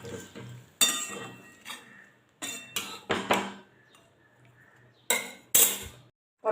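A spoon stirs pointed gourd curry with spices and a little water in a pot, making irregular metallic clinks and scrapes spaced out between quiet pauses, close by.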